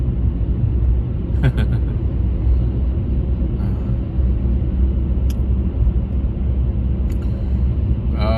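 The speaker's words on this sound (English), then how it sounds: "People, we are driving on the national route G220." A car cruising along national route G220 between Chaoxian and Dingtao, giving a steady, continuous low road and engine rumble that stays even throughout, with a few faint higher hisses passing by.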